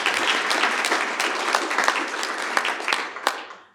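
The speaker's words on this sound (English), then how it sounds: "Let's clap for it." Audience applause at a talk on harm reduction programs, a dense, steady wash of many hands clapping at close range, with a few sharper individual claps standing out before it tapers off at the end.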